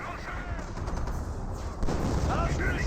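Artillery barrage in Company of Heroes: a dense wash of distant booms and explosions rumbling continuously under battle noise, with a stronger impact near the end.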